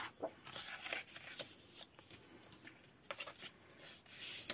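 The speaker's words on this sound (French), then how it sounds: "Ensuite, on va venir marquer nos plis." Sheet of A4 paper being creased along its folds by hand, a run of soft rubbing and crisp swishing strokes, close up and quiet, with no talk.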